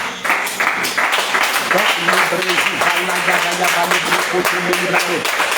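A church audience claps and cheers for Jesus in sustained rhythmic applause, with loud voices calling out over it.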